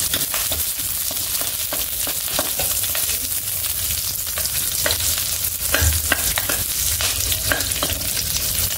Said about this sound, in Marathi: एक चमचाभर तेल घातलेलं आहे, त्याच्यामध्ये आपल्याला कांदा परतून घ्यायचा मंद आचेवर